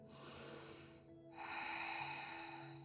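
One deep breath drawn in through the nose at the close of a yoga session, a long soft airy hiss broken by a short pause, close and quiet with no talking.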